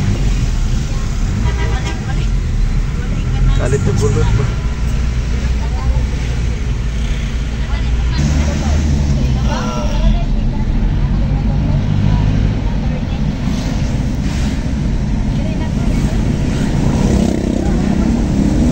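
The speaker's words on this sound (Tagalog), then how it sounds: "Ang traffic din pala dito." Steady, loud road traffic on the way to Marawi City, with a continuous rumble of engines from cars and buses and occasional passing vehicles, while people talk over it.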